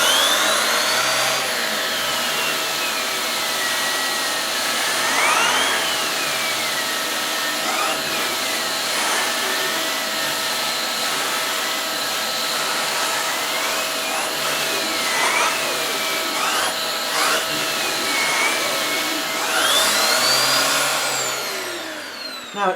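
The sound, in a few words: Vax Air 3 upright vacuum cleaner with turbo nozzle picking up pet hair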